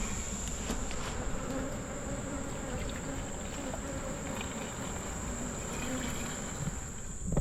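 Honey bees hum in a dense, steady drone at an open hive during a late-August inspection, the buzzing close and continuous throughout, with no voices over it.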